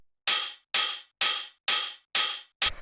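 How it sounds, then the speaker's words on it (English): Open hi-hat drum sample from a techno track, six bright crisp hits in an even rhythm, each ringing and decaying before the next, the last one cut short with an added low thump. "Then we have the open hi-hat, which sounds like this."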